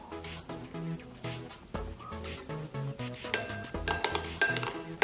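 A spoon stirs a homemade slime mixture of glue and detergent in a bowl, giving repeated close clinks and scrapes against the bowl in a steady rhythm, with no voices.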